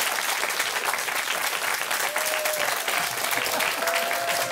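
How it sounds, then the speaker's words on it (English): Dense, sustained applause from a studio audience at a television chat show, steady and loud throughout with a few faint tonal whistles mixed into the clapping. "Big round of applause for both of them,"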